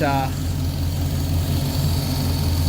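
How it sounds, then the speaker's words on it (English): A 1966 Pontiac Catalina wagon engine idles up on a chilly day, a steady low rumble that is loud and close, with a brief rising chirp at the start. "It takes a little longer for her to idle up."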